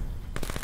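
A short, loud burst of rapid video game gunfire breaks in suddenly after a brief lull.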